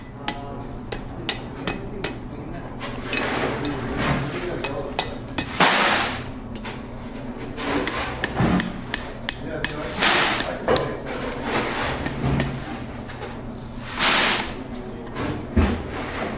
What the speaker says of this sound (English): Let's bring it over to the anvil. I'm just going to kind of form this around here.